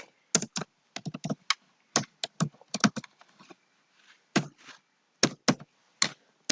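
Close, crisp keystrokes on a computer keyboard while C++ code is typed, coming in quick irregular bursts with short pauses between them and no talk.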